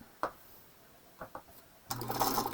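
A few isolated mechanical clicks, then a sewing machine motor whirs into a short run of stitches near the end, close and moderately loud.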